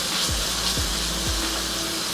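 Three tomatoes frying in vegetable oil give a steady, close sizzle with a few soft scraping strokes of stirring, with no talk.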